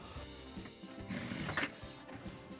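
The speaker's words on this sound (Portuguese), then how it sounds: "Antes eu vou costurar a minha etiqueta aqui desse lado." A sewing machine stitches a label onto a cloth bag, its needle mechanism whirring and clicking quietly in short uneven runs, with a louder burst partway through.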